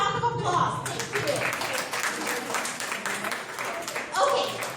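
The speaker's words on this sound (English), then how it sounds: "give her a round of applause" Audience applause for a participant at a university cultural event, a sustained patter of many hands clapping, loudest at the start and end, with people talking over it.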